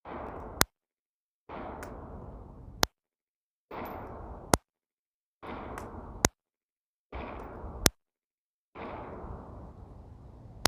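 Pistol shots from an everyday-carry handgun fitted with a red dot sight, fired slowly at circle targets: six sharp, loud cracks spaced about a second and a half apart, each followed by a short ringing tail and quiet gaps.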